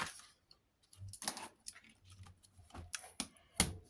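Scissors snip through paper during a Christmas craft project: a handful of crisp, close cuts and rustles arrive in uneven bursts with short pauses between them.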